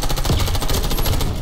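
Rapid automatic gunfire in the free online shooter video game Warface, a dense, loud, continuous burst of shots with no talk over it.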